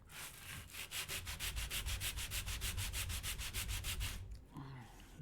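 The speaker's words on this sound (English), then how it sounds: "Ready for the ASMR sanding." Hand sanding of very thin pine with 120 grit sandpaper: a fast, steady run of about twenty rhythmic abrasive back-and-forth strokes, close and loud, stopping abruptly near the end.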